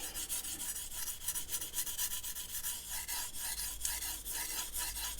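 A steel blade is drawn over sandpaper in steady repeated rasping strokes, close and fairly loud, with a gritty scraping rhythm and no voices.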